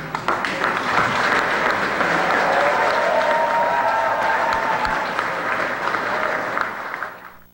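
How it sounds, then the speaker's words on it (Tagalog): A crowd greets a new customs commissioner at his oath-taking with loud, sustained applause and cheering, the dense clapping swelling and holding for several seconds before tapering off abruptly. "malakas na sigawan at palakpakan ang sumalubong sa kanya"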